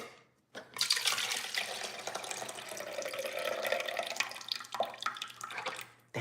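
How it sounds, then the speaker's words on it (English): Homemade hair growth juice made with beets and ginger is poured into a container, giving a steady, close liquid splash and trickle that runs for several seconds with a few drips before stopping. "I like for you to hear the pour."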